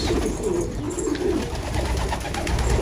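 A returning karakşipir pigeon coos in soft, low, repeated murmurs close by, with steady background noise.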